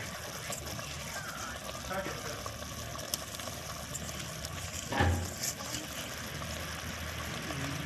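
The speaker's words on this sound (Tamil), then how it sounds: "இப்போ நம்ம மீனை போடலாம்." A soft plop and splash as fish drops into a gently bubbling sardine curry partway through, over a steady simmer and low background noise.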